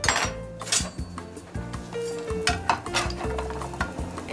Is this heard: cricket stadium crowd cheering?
no